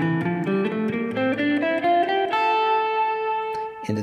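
Guitar scale played from A up to A in a box pattern, single notes stepping steadily upward one after another, clear and close with no talking.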